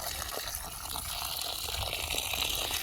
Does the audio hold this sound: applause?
no